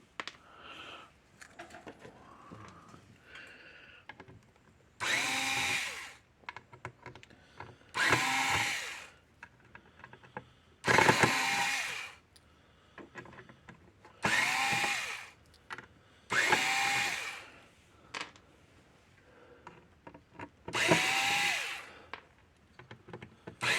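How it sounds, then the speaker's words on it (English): A power drill with a square-headed Robertson bit backs screws out of a Gallagher W210 weigh scale casing in seven loud, close bursts of a few seconds each, separated by short quieter pauses with light handling noise. "you need a right square-headed Robertson bit to take the screws out"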